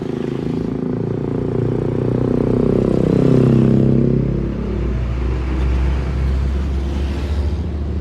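Busy morning traffic on KM 11 Sultan Mahmud Badarudin II, with a steady roadside rumble of engines and tyres and a louder vehicle passing close by midway.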